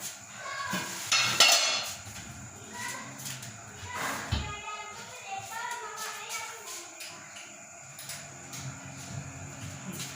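Metal clatter and scrape as a kadhai is set on a home kitchen stove, a few sharp clanks near the start and a thud midway, with someone talking throughout.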